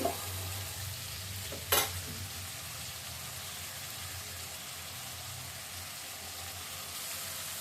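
Whole spices, cloves and cumin with nuts, fry and hiss evenly in a pan. A sharp scrape of stirring comes early, then the sizzle runs on steady and moderately close, with no talk.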